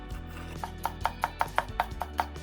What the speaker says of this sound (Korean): 풋마늘, 얘는 다질 거예요.